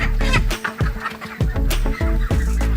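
Chickens cluck loudly and close by, mostly hens being raised as future breeders, with overlapping bursts of clucks and short calls running continuously without a break and no talking.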